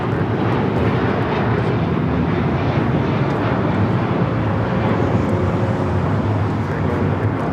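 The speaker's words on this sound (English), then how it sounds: "136 taking off to London Heathrow on the 777-200ER" An American Airlines Boeing 777-200ER takes off from Los Angeles airport with a loud, sustained engine roar that holds steady over the whole stretch, thick with low rumble.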